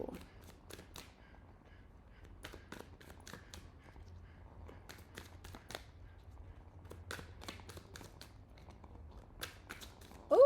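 Tarot cards shuffled by hand at close range, quiet crisp riffles and slaps in irregular bursts over a faint background hum, with a brief voice at the very end.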